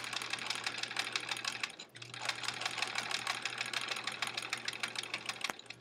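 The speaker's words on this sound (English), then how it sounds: "Trying to sew this straight, although I'm not very good at sewing straight all the time" Sewing machine stitching a quilt block in rapid, steady bursts of needle clatter, close and fairly loud, with a brief pause near the middle and a sharp click near the end.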